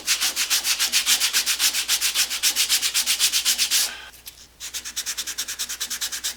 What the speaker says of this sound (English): see if I can maybe rub those out with the sandpaper